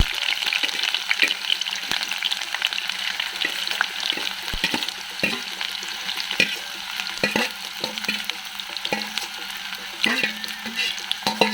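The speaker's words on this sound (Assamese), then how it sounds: "এয়া পিঁয়াজটো অলপ দেৰি ভাজি থাকিব লাগিব" Onions frying in a hot pan until they turn brown, a steady close sizzle and crackle broken by scraping stirring strokes throughout, with no talking.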